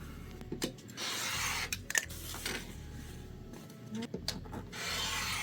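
Fabric scraps are trimmed into 2 1/2 inch squares, giving quiet, close cutting strokes and soft rubbing in short, irregular bursts, with no talk.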